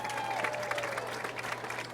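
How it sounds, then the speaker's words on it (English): Football game crowd applauds for the cheerleaders, a steady, moderately distant patter of clapping across the stands with faint voices mixed in. "Let's give our cheerleaders a big round of applause."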